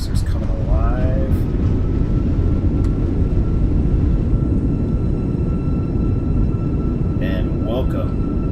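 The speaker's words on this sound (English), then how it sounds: "Reverser's coming alive." An Airbus A320 in a flight simulator roars with sustained broadband thrust-reverser noise after landing, loud and steady, while a person talks briefly over it.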